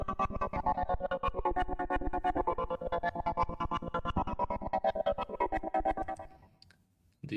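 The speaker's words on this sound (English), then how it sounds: "and then there's this pulsing synth as a layer." Electric piano layered with a pulsing synth that chops the sound into a fast, steady rhythmic throb of bright tones, continuing for several seconds before fading briefly near the end.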